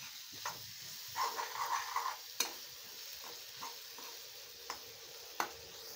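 Egg bhurji is stirred slowly in a kadhai over a low flame, with a soft sizzle under scattered spoon scrapes and taps against the pan.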